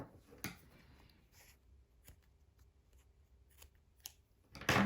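Scissors snip crochet yarn on a pink crocheted hat, several sharp isolated clicks and cuts close up in a quiet room, ending with a louder rustle.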